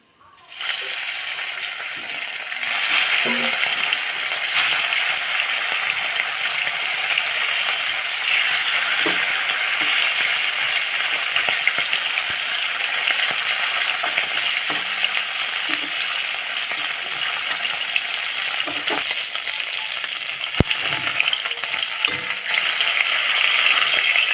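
Shol fish (snakehead) frying in hot oil gives a steady, loud sizzle with occasional crackles and spatters, holding evenly throughout without speech.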